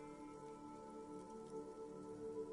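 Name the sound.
rain dripping on roofs in the video game Disco Elysium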